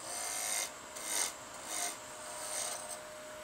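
A small wood spindle is roughed out on a lathe, giving repeated raspy scraping strokes in an uneven rhythm over a faint steady hum. The sound is close and moderate in level, with no speech.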